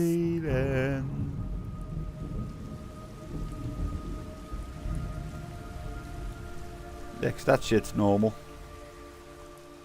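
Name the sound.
rain and thunder in video game Metal Gear Solid 3: Snake Eater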